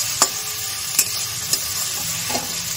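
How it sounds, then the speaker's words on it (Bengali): Onion fries in a pan with a steady sizzle, broken by three or four sharp spatula clicks at regular intervals, close and fairly loud. "পেঁয়াজটা ভেজে নিই"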